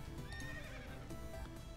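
A horse neighs and whinnies in the Potato Dungeon video game, with clip-clop hoofbeats under it. The call is loud and close and runs the whole moment with no talking over it.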